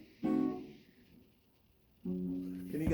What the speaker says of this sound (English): This is the sound of diminished.